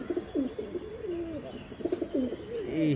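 Pigeons coo repeatedly nearby, soft throaty rolling calls overlapping in a steady rhythm with a few faint chirps.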